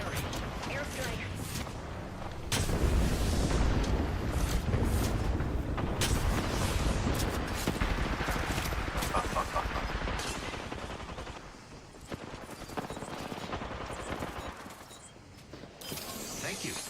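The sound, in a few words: gunfire in a battle royale video game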